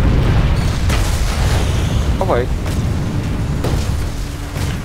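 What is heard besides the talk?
Vanguard tank main cannon explosion in Planetside 2 video game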